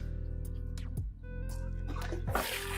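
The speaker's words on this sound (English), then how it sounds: "Here the filter sounds a lot louder." An aquarium filter runs in a six-foot terrapin tank with a low water level, giving a close, continuous trickling and splashing of water with a few louder gurgles.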